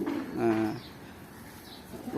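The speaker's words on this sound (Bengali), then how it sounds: "এই যে পুরো ধাড়ি পায়রা খাচ্ছে" Pigeons coo softly while feeding, one low throaty coo near the start and another beginning at the end, over quiet background noise.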